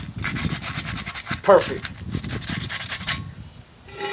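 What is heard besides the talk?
sanding car wheel rim with 100 grit sandpaper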